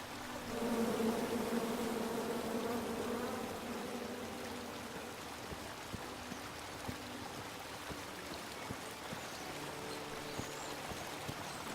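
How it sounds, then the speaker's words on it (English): Angry bees swarm around a tree in the video game King's Quest, a dense, steady insect drone that is loudest at first and then settles into a softer hum with scattered small ticks. "And then you chop down the tree full of angry bees?"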